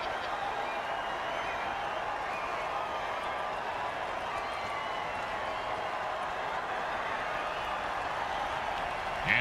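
A stadium crowd in an American football video game roars and cheers in a steady, continuous wash of noise, with a brief swell at the end.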